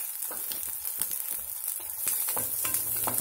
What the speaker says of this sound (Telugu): అది కూడా హై ఫ్లేమ్లోనే మనం ఇలాగ ఫ్రై చేయాలి.